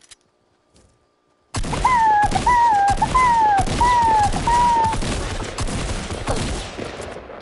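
Heavy gunfire erupts in a Fortnite match, a dense barrage of loud rapid shots after a near-silent start, with a wavering alarm-like tone riding over the first few seconds.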